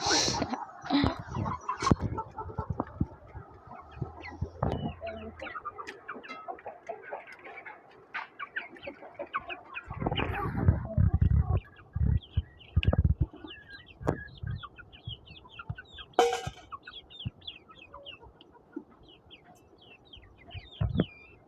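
Hens clucking, ducks and bird calls in a busy barnyard, with scattered chirps, rustling and occasional louder clatter throughout.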